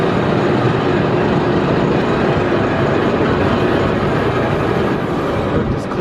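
A Mako roller coaster train at SeaWorld Orlando rolling into the station as a steady, loud mechanical rumble with wheel noise that goes on throughout.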